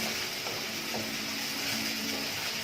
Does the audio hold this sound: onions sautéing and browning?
yes